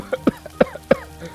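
Several people coughing in a smoky room filled with spice fumes from tempering, three distinct close coughs spaced about a third of a second apart, followed by a softer fourth.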